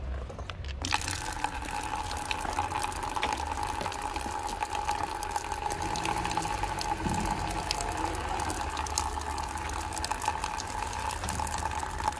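Tap water runs steadily into a bucket for a car wash, a continuous hissing gush at moderate volume that carries on unbroken for the length of the clip, with faint rustling near the start.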